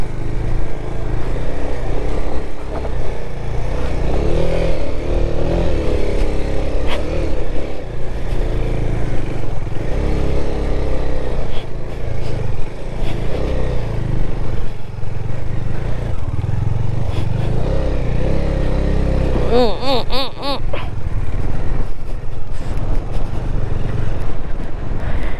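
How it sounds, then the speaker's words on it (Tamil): A motorcycle engine labours and revs continuously while skidding up a steep hill road near Vagamon and Parunthumpara in Kerala, loud and close with some clatter throughout. "கொஞ்சம் பக்கம் ரொம்ப ஸ்கிட் ஆகுது வண்டி, பட் ஏறுது."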